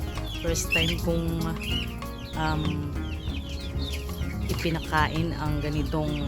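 Chickens clucking and cackling close by while pecking at melon and honeydew rinds set out as feed, steady overlapping fowl calls with someone talking over them.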